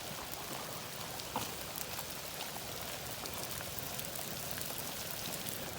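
Heavy rain pours down in north Georgia, a steady dense hiss of water that continues without a break for the whole stretch, with no voices.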